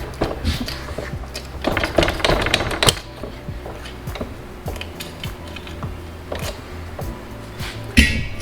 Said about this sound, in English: This is the shrinker tool. As these arrows indicate, the jaws scrunch the metal up in here.